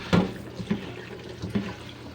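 French beans being washed by hand under a running kitchen tap, a steady stream of water with three soft splashy bumps as the beans are moved under it, no talk.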